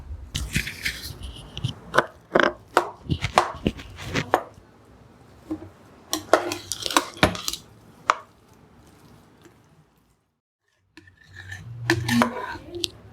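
Jaggery is stirred into sweet almond sakkarai pongal in a pot, heard as repeated clanks and scrapes of a spoon against metal in uneven bursts, with a short pause near the end.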